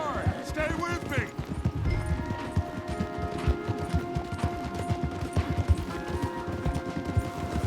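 Horses galloping hard in a video game chase, a dense stream of rapid hoof clip-clops with game music and shouted dialogue over them.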